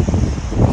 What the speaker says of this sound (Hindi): और ऊपर से जब इतनी हवा चल रही हो।